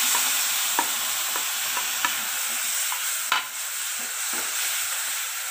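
Green chillies and tomatoes fry in a spiced tempering for South Indian rasam, giving a dense, steady sizzle up close, punctuated by light, scattered ladle taps and one sharper clack against the pan.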